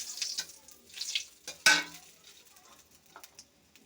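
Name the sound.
frying dried chili, bay leaves and cardamom in oil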